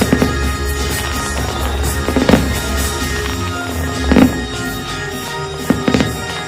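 Fireworks during the Mickey's Mix Magic nighttime show at Disneyland: a continuous dense rumble of bursts and crackle with a few louder booms standing out, heard from within the crowd.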